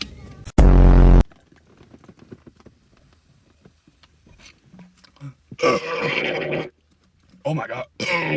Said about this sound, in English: Now you can burp.